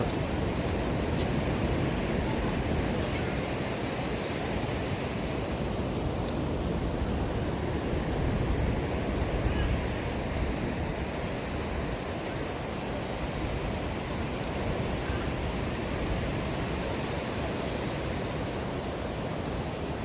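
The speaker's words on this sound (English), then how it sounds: "Some more footage of the waves." Ocean surf rolling onto Vilano Beach, Florida, with a light breeze, a steady broadband wash of breaking waves that stays loud and continuous throughout with no talking.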